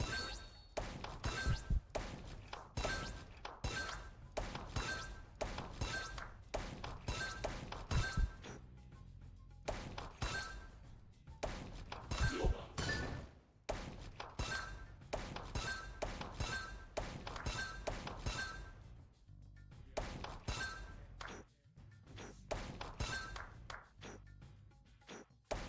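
Explosions go off one after another in a ball-touching video game: dozens of sharp, loud thudding and shattering bursts in a fast, uneven barrage that runs for about twenty-five seconds with no speech.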